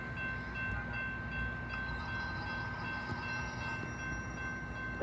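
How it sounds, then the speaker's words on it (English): A train rolling through the Ridgeland Avenue railroad crossing near LaVergne station in Berwyn, Illinois: a steady, moderately distant rumble of rail cars with a faint sustained tonal ring over the noise, no voices. "We have a train coming"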